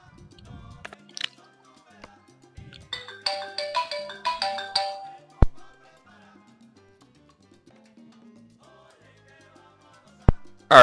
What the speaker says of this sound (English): Somebody was calling my phone